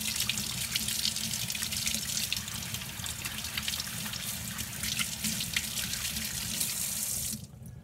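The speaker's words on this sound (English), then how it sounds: "when I rinse it, of course, I reverse it and look at the residue in the bottom of the sink" A sink tap runs steadily as a French press coffee filter is rinsed under it, water splashing continuously and close before the flow cuts off at the end.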